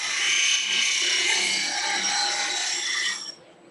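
A woodturning gouge is ground on a sharpening wheel, a bright continuous hissing grind up close that holds steady for about three seconds, then cuts off, leaving a faint hum.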